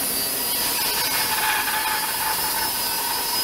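A loud, steady whine of a high-speed router cutting wood, constant and close with bright tonal hum throughout and no talking.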